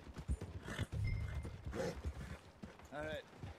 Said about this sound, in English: Jezus, wat een groot paard.